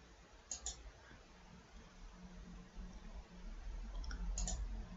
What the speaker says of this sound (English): So I just click away a sec.